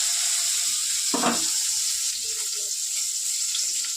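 Eggplant frying in hot oil in a home kitchen, a steady bright sizzle running throughout, with a brief louder burst of spatter near the start and soft clinks in the background.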